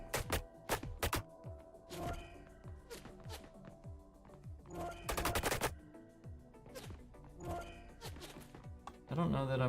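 Video-game gunfire: sharp bursts of shots, some in rapid machine-gun strings, scattered across the clip between quieter stretches with game music and tones underneath.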